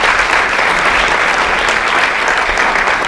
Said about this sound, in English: how about a round of applause for our language program